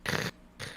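A person's voice imitates a low, rough growl in two short bursts, the first longer and louder, the second softer after a brief pause.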